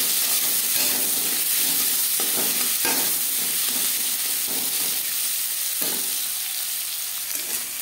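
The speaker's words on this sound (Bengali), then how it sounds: "পেঁয়াজ আমি হালকা করে ভেজে নেব।" Large onion pieces fry in hot mustard oil in a kadai, a steady loud sizzle broken by repeated scraping stirs, close by and without talk.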